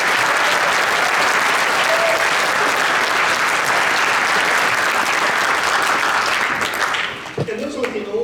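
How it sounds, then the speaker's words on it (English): Dense, sustained applause from a concert audience honoring a band director at a high school district band performance, loud and steady for several seconds before tapering off as the hall settles. "Let's give him a round of applause"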